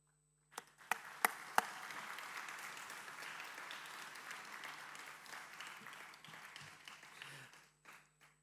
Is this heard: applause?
yes